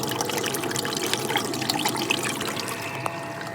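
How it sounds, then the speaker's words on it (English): Water runs steadily through a Gold Tower gold sluice, a continuous close trickling and splashing flow with small bright drips scattered on top. "we cut the water flow down a little bit"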